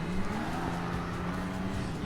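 A race car in an F1 video game drones along with a steady, even engine hum at a constant pitch, close and fairly loud, with no voices.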